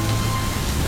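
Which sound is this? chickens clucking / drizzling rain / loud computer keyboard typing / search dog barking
drizzling rain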